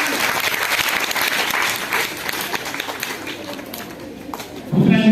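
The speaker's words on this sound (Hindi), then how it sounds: "तालियां बजाइए।" Audience applause during a general knowledge quiz, a dense burst of clapping from a group that gradually thins, followed by a voice starting to speak at the very end.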